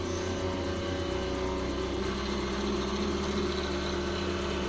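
Computer cooling fans salvaged from an old PC spin inside a homemade dryer for fish, meat and mushrooms, producing a quiet, steady hum with a low drone and a faint fluttering whir.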